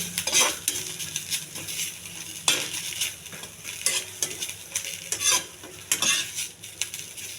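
Coriander and coconut chutney ingredients being stirred and sautéed in a pan, close up, with a soft steady sizzle and repeated scraping strokes of a spoon against the metal, no voices.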